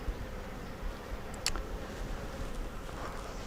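Honey bees buzz during a beginner brood inspection of an open hive, a dense, steady drone close by, with a brief sharp click partway through.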